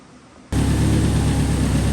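After a brief quiet moment, a Subaru Impreza WRX STI engine, just refitted with a replaced turbo and up-pipe, abruptly roars to life and keeps running at a loud, steady idle close by.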